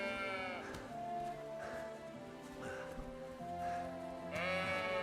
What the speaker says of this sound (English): Sheep! Punch the sheep!